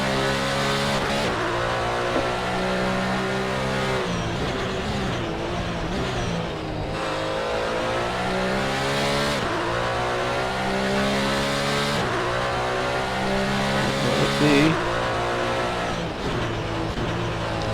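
A race car lapping Bathurst in Gran Turismo drones loudly and steadily, its engine pitch climbing through gears with periodic shifts and dips, alone without talk.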